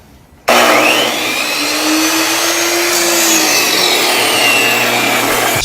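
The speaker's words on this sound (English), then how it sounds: "It's a miter, so you pull out, then you go down." A miter saw cuts through material on a construction job inside a warehouse sound stage, a loud continuous whining buzz that starts abruptly and holds steady for several seconds with no talking.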